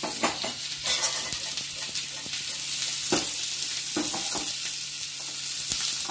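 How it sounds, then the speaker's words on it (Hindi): Steady sizzling of soya being lightly fried in a pan, with occasional stirring clinks and scrapes throughout. "हल्का फ्राई करूंगी।"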